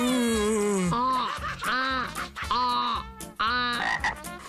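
A cartoonish frog croaks in several drawn-out, wobbling, voice-like groans that are loud and close, with no other talk over them.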